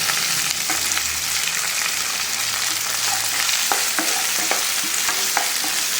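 Steady loud sizzling of onions frying in a hot pan with ginger and garlic, with a few scrapes and clinks of a spoon stirring.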